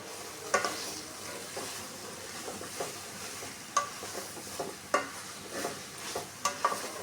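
A catla fish head seasoned with salt and turmeric fries in a pan, a soft steady sizzle broken by sharp scrapes and clacks of a stirring spatula at irregular intervals.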